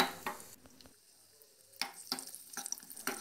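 Cashews frying in ghee in a pan for coconut milk payasam, a soft sizzle broken up by stirring scrapes and clinks, which go quiet briefly midway and then return.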